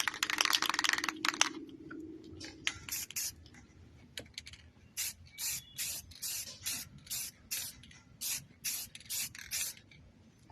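Rust-Oleum white spray paint hissing from an aerosol can, first a longer burst, then a rapid series of short, evenly spaced bursts misting over a painted mountain, close and fairly loud.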